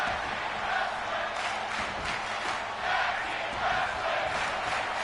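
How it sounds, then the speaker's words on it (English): A wrestling crowd roars and cheers steadily after a kick out at two, a dense wash of voices that swells in waves throughout, with no clear single speaker. "And this crowd coming to life after that."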